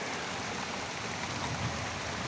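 Steady rain falls, a broad even hiss with no pauses, moderately close and without any voices.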